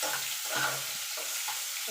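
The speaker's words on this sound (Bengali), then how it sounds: "একটুখানি নাড়াচাড়া করে নেব" Vegetables including capsicum and onion sizzle and fry in a pan for egg chowmein, stirred a few times with soft scraping strokes over a steady close hiss.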